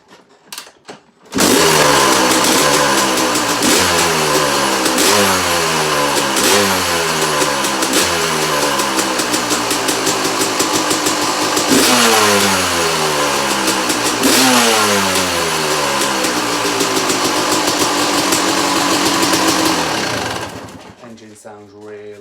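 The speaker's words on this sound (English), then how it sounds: "Sounds really sweet, and it starts up really easy." A 2001 Yamaha YZ250 two-stroke dirt bike engine fires up and runs loudly and close for about twenty seconds, idling with periodic revs and blips before cutting off.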